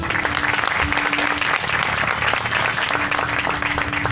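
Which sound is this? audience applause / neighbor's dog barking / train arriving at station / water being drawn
audience applause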